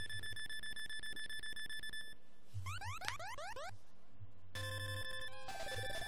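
A telephone rings in the retro video game Felix the Cat, an electronic chip-tune ringing: repeated trilling tones, then rising sweeping chirps and a second burst of layered beeps with a falling warble, loud and alone without speech.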